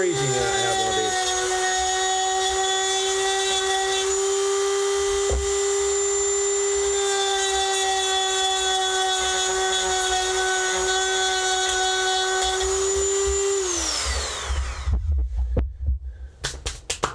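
Dremel rotary tool whining at a steady high pitch for about fourteen seconds, close and loud, then spinning down, followed by handling clatter and a voice.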